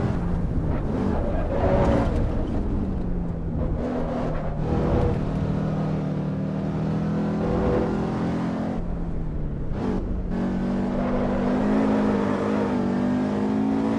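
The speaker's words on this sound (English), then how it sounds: "We're driving the beautiful Mercedes 190 Evo." A Mercedes 190 Evo engine while driving, a steady droning hum whose pitch rises and falls as the car accelerates and shifts, close and continuous with no voices.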